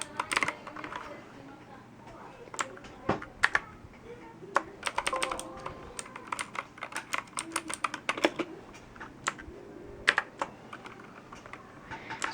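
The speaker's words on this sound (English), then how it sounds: "Every time I click a key, it goes like this." Rapid, irregular key clicks from a Pictek TKL gaming keyboard, close and crisp, continuing steadily with uneven bursts of typing and no talking.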